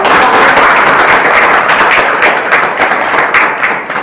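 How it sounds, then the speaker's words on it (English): Year 4 schoolchildren clap in a sustained round of applause at a science quiz, a dense, close crackle of many hands holding steady for about four seconds before easing slightly at the end. "So give them a round of applause."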